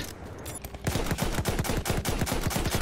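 Rapid automatic gunfire in the video game Battlefield 1, set in the Sinai Desert during a Conquest match, erupts in a loud burst of evenly spaced shots after a brief quieter moment.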